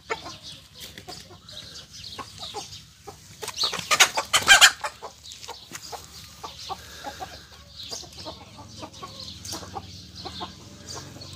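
Arab breed hens cluck and squabble in a flock, with a loud burst of agitated squawking in the middle amid steady nearby clucking.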